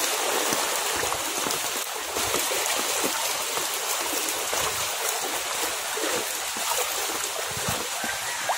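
Steady, dense hiss of heavy typhoon rain from Typhoon Enteng in Burdeos, Quezon, Philippines, with a continuous rushing wash of floodwater, loud and close, with no voices.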